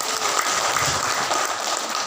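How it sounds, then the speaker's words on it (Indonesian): An audience at a women's forum on Indonesian elections applauds with a continuous wash of many hands clapping at once. It is steady and fairly loud, with a roomy, slightly distant sound. "Tepuk tangan."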